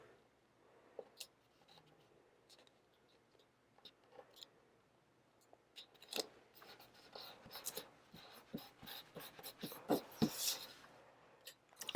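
Scissors cutting sticker paper at a planner desk: quiet, scattered snips and paper rustles that get denser and louder toward the end, with no talking.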